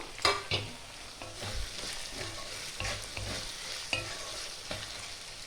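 Chopped tomato frying with softened onions in a pan for a Bengali chicken bhuna, a low steady sizzle broken by repeated scrapes and clinks of a spatula stirring against the pan.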